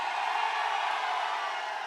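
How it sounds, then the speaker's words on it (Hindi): A crowd at an indoor network-marketing training event applauds loudly, a dense, steady wash of clapping that holds evenly for about two seconds with no voices heard. "जोरदार तालियां"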